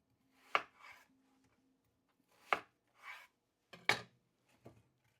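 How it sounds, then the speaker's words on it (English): A knife coarsely chopping an onion on a board, four separate chops, each a sharp, close tap followed by a short scraping rub, with quiet gaps between and no talking. "all we're doing is we're just chopping the onion"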